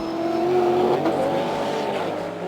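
A BMW GT4 race car from the GT4 European Series at Zandvoort heads into the pits, its engine a steady, fairly loud drone with a sliding pitch that eases off near the end.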